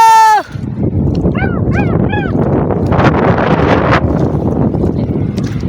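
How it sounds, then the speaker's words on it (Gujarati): Strong wind at sea roars steadily into the microphone, a constant heavy rush with a brief whistling tone at the start and a few squeaky calls over it. "પવન છે ફૂલે ફૂલ"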